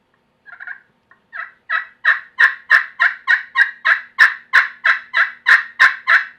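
A turkey pot call with a slate surface sounds in a fast, rhythmic series of raspy yelps, close and loud, rising in intensity with no talking.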